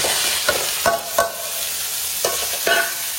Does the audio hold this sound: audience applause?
no